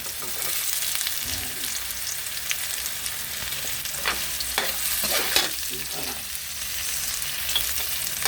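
Jicama (singkamas) for fresh lumpia stir-fried in a pan, with a steady sizzle and scattered scraping stir strokes running throughout.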